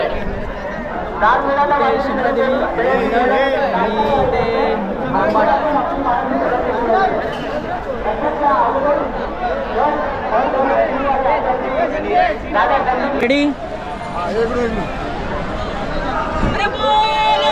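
Dense crowd chatter and shouting from two Dahi Handi festival groups gathered together, a steady loud hubbub of many voices with occasional louder cries throughout.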